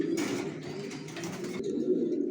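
Racer pigeons, a young breeding pair, cooing steadily in a loft, with soft low throaty coos repeating close by throughout.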